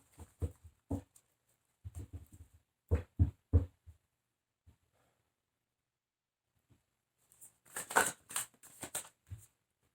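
Tarot cards are shuffled by hand in short bursts of riffling and slapping, several clusters spread apart with quiet pauses between and a louder, busier flurry near the end.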